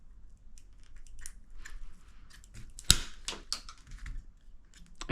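Scissors or cutters snip through a melted plastic headlight bulb base from a 1998-2007 Chevrolet Silverado, giving irregular close crunching clicks and snaps with one sharp crack near the middle, no talking.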